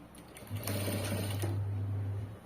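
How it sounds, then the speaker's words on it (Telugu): A sewing machine stitching blouse fabric runs in one close, loud, steady burst of about two seconds, its hum starting abruptly and stopping just as sharply, with no talk over it. "ఇలా నీట్గా స్టిచ్ చేసుకుంటూ వెళ్ళిపోవాలి"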